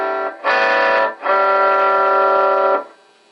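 An Acoustic G20 Lead Series guitar amp on its dirty channel, loud distorted guitar chords: a short stab, then a longer sustained chord ringing before cutting off.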